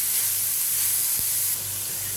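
Onions sauté in a pan for drumstick leaf bhaji, giving a steady, close sizzling hiss with a faint clink partway through.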